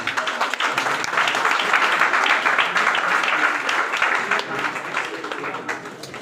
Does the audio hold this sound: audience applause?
yes